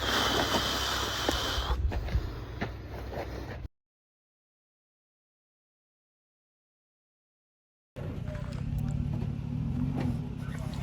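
A vehicle engine strains and revs while reversing out of a steep spot, a steady loud rumble that cuts out to silence midway and then resumes.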